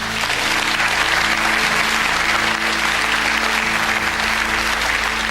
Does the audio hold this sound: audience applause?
yes